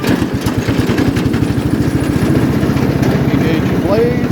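A riding lawn mower's engine runs steadily with a throbbing mid-pitched chug, loud and close throughout, with no talk over it.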